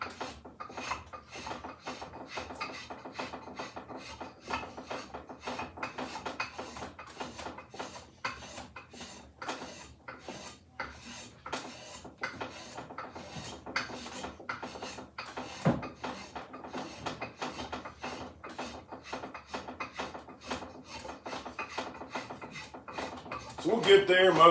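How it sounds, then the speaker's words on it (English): A spokeshave shapes a wooden axe handle, producing quiet, repeated scraping strokes in a steady rhythm, close by and fairly faint. "So we'll get there most of the way with the spoke shave, and then I'll probably rasp it in again."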